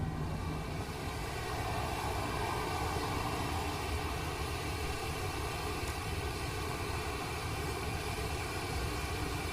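A constant broadband engine roar of an airplane on the runway in Microsoft Flight Simulator 2020, steady and loud throughout with no pauses.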